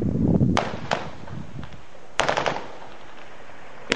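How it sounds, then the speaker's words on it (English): AK-47 rifle gunfire about 100 yards away during a shootout in Los Cabos: a few sharp, distant cracks with echoes, then a tight cluster of shots, spaced out over a few seconds. "That's AK-47."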